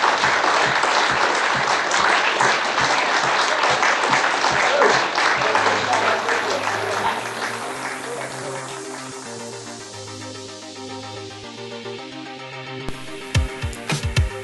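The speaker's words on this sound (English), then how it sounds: "give Scott a big round of applause" Vigorous audience applause greets cricketer Scott Borthwick, filling the room at first and then fading as music rises beneath it, with a few sharp knocks near the end.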